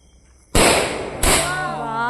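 Two loud Diwali firecracker bangs go off close by, about half a second apart, each sharp burst trailing into a ringing decay, with voices audible underneath.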